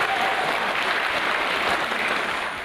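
Dense, continuous applause from an audience at the launch of the International Day of University Sports in Fiji, a full, steady wash of clapping that begins to taper off toward the end.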